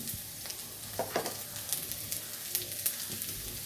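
Onions fry in hot oil as asafoetida is added, a soft steady sizzle with scattered crackles and occasional stirring scrapes, fairly quiet and close.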